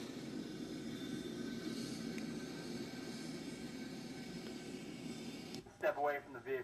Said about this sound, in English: It's a Learjet taxiing.